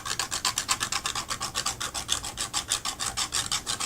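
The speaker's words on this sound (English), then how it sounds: "I was just making some of it darker by scraping some off." Rhythmic rasping strokes of paint being scraped off a mixed media hummingbird artwork, about eight quick even scrapes per second, close and steady, with no talking.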